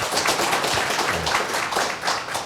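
A seminar audience breaks into applause at an industrial digital-innovation policy talk, a dense, steady wash of many hands clapping at close range that lasts throughout without pause.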